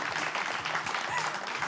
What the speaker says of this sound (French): Applaudissements d'abord.